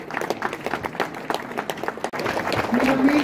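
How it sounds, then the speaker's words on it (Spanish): Crowd applause at a ribbon-cutting for a newly built public restroom, scattered claps rising and falling with a brief dip, while a voice speaks over a loudspeaker near the end. "Vamos a recibirla nuevamente con fuertes aplausos para el corte de este acto."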